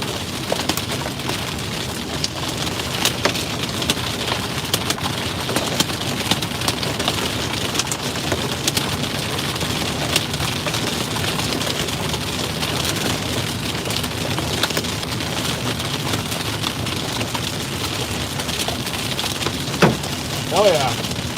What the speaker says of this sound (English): The drops are raining out.